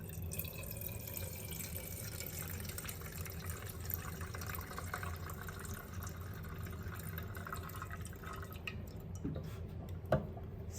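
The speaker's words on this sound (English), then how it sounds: "So we're gonna go ahead and get the pouring going." Melted candle wax poured from a pouring pitcher in a home kitchen, a faint steady trickle with small drips and splashes and one sharper knock near the end, with no talking.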